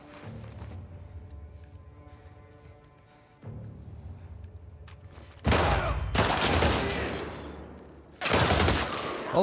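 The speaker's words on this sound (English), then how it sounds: "It shoot three bullets at a time now." Gun firing three-round bursts in The Last of Us Part 2: two loud, sharp bursts of rapid shots after a quieter stretch of low ambient rumble.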